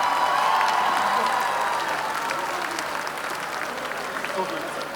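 A concert audience at Metropolis Arena in Skopje applauds, a loud, dense wash of clapping that slowly fades a little, with a voice heard over it.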